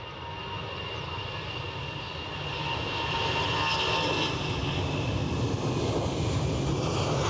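An Iberia Express jet airliner from Madrid arrives at Edinburgh, a continuous broadband engine roar that grows louder as it approaches, heard outdoors with wind and no talking.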